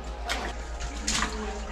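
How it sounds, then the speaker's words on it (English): Rushing river water in Kings Canyon National Park, a steady broadband wash with splashy surges, close and fairly loud, no talking. "we're going in the river now. This is the river."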